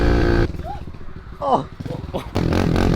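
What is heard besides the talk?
motocross motorcycle riding off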